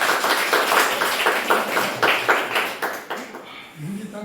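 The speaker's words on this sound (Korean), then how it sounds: "네, 박수 주세요." A roomful of teachers at a middle-school training session claps in brisk, fairly even bursts for several seconds, and a voice speaks as the clapping dies away.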